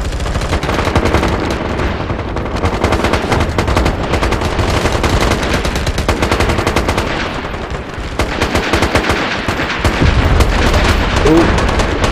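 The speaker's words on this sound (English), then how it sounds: "I'm gonna put some grenades in the building" Grenades thrown into a building during a video game firefight, with dense, loud, continuous gunfire and booming blasts that run for the whole stretch without a pause.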